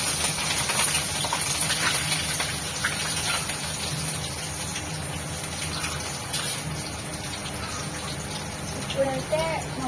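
Green onions dropped into hot oil already crackling with mustard seeds and cumin, a steady hissing sizzle like rain that holds throughout, with someone talking over it.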